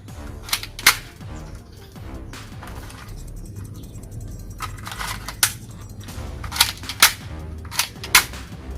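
Several sharp snapping shots from a Black Mamba P355 air pistol during an accuracy test, spaced irregularly across the stretch, each a crisp broadband crack over low background rumble.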